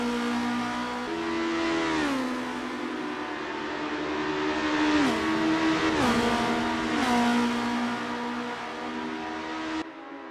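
Race car engines in the Assetto Corsa video game, a continuous droning whine that climbs and drops through repeated gear changes and throttle lifts, with no voices over it.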